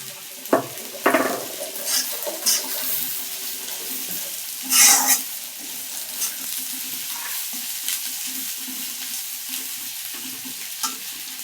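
Ginger hits a frying pan while a fish-head mixed vegetable dish cooks, giving a steady close sizzle with scattered stirring scrapes and a brief louder splash of hiss midway.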